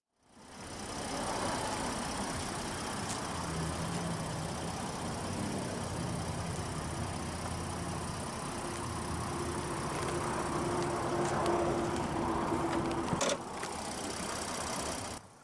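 A 2022 Nissan Frontier SV crew cab's 3.8-liter naturally aspirated VQ38DD V6 starts up, then settles into a steady, even idle with a low rumble. It is heard close and alone, with a few faint clicks near the end.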